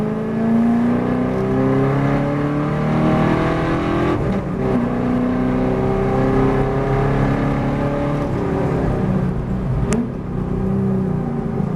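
A V8 race car on a circuit, heard from the cabin as a loud continuous engine drone that drops under braking and shifts pitch through gear changes, with a sharp transient near the end.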